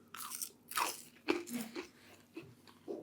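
Crispy fried potatoes, sprinkled with spices and fried darker than usual, crunched between the teeth in several quick, sharp bites followed by softer chewing; close and fairly quiet, with no talking.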